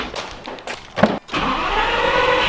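A Lamborghini Gallardo's engine starts with a few short bursts, a brief drop, then settles into a steady mid-pitched running drone with a high whine, fairly close and alone.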